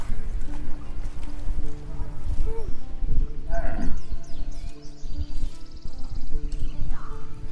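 A cow in Baldur's Gate 3 lets out a few low moos amid game ambience, with soft hoof clops and a brief whinny-like call, fairly close and moderately loud.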